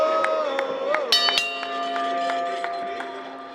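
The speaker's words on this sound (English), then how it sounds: "the bell has sounded, and we are underway" A starting bell rings out at a wrestling match at an indie show in Kansas City, its tone sustaining over the murmur and cheers of a crowd.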